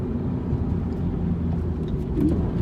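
A 2016 Scion FR-S engine drones steadily while the car is driven, a low rumbling road and engine noise that stays even throughout with no talk.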